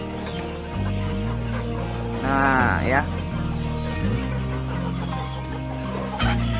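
KUB chickens cluck in a coop amid farm livestock sounds, with a loud drawn-out animal call in the middle and steady engine-like hum beneath; a person briefly speaks.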